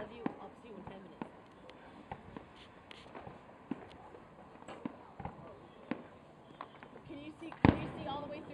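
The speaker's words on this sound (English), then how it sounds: "see the fireworks" Fireworks going off during a Christmas outing in America, a scatter of faint distant pops spaced through the scene, with one louder bang near the end, under a noisy outdoor background.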